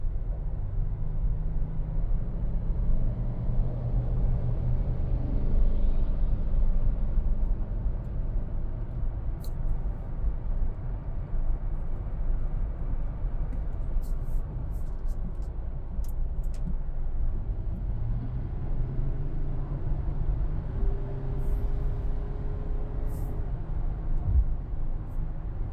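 Inside a Toyota 4Runner TRD Pro on the move, a steady low rumble of road and tire noise with a faint engine hum, continuous and even, with no talking.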